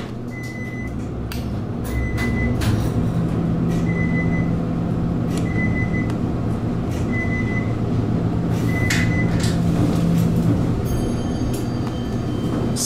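Westinghouse traction elevator at an airport-area hotel riding upward: a steady low mechanical rumble and hum with a repeating high chime as floors pass, plus occasional clicks and rattles inside the cab.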